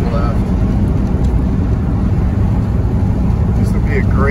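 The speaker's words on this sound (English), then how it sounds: "Overdrive, it's just engaged, and going along here, easily 50, there's lots left." A 1938 Chrysler Imperial cruising in overdrive at about 50 mph gives a steady, loud low road-and-engine rumble with wind noise, continuous throughout, and some speech mixed in.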